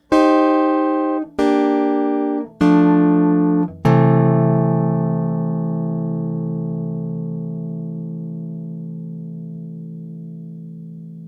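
Four chords are struck on a Chapman Stick through a Stickup pickup, the first three brief and evenly spaced, the last left to ring with long, slowly decaying sustain, with no voices present.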